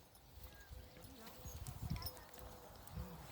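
Pony hooves clip-clop at a walk during an outdoor riding lesson, fairly soft and steady under an instructor's voice giving directions.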